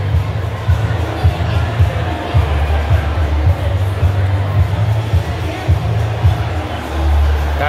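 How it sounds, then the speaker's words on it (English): A packed crowd roars and cheers at the opening of a MrBeast Burger restaurant, loud dense hubbub with rumbling low thumps and shouts throughout, close and chaotic. "the whole place just went nuts. It was pandemonium in here."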